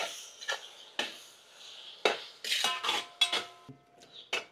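A utensil stirs ginger garlic paste in a pan, giving irregular metallic clinks and scrapes at moderate volume, spaced unevenly and growing busier toward the end, with no voices.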